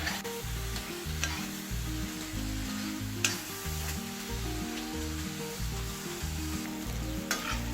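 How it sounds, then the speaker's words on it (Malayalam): Prawns and bottle gourd roasting in oil in a pan give a steady, hissing sizzle with occasional scrape-like stirring accents over a low rhythmic background, with no talk. "ചെമ്മീനും ചുരക്കയും ഒന്ന് എണ്ണയിൽ കിടന്ന് ഒന്ന് റോസ്റ്റായി"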